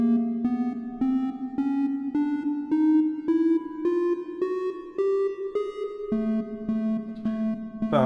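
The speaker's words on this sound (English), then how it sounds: "so this is what the sequencer sounds like." Empress Effects Zoia sequencer driving an oscillator: a steady stream of evenly pulsed synth notes, each step gliding slightly higher in pitch before dropping back down near the end, clear and alone.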